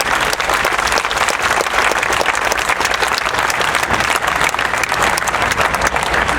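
Audience at a 9/11 memorial at LAFD Fire Station 88 applauding for uniformed personnel, a dense continuous wash of clapping from many hands, close and sustained throughout.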